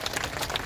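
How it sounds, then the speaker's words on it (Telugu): Audience clapping at a large Hindu gathering, a brief burst of scattered handclaps that stays fairly soft and even. "మళ్ళీ ఒకసారి చప్పట్లు కొట్టండి, మళ్ళీ రాకుండా."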